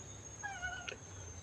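A young kitten, newly abandoned at a Thai temple, gives a single short plaintive meow, faint against a quiet background hum.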